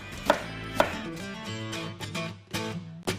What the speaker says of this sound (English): And I've peeled this and sliced it to this point. Now I'm just gonna cut it across.